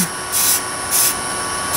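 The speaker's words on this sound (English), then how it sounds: "I'm gonna spray it with a little shot of the activator" Three short hissing bursts of activator spray hit a spinning lathe workpiece while the lathe hums steadily underneath, close and fairly loud.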